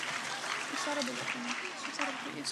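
An audience at the Aloha JK state-level competition in 2015 keeps up steady clapping while a voice talks over it throughout.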